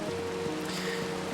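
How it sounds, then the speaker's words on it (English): Rain falling in the Minecraft video game, a soft, steady hiss of rainfall with a faint low hum beneath, continuous and even throughout. "And it's raining."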